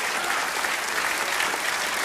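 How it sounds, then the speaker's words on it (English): A studio audience on a comedy talk show breaks into sustained, dense applause for a male contestant, steady and full throughout with no voices standing out. "round of applause for this gentleman"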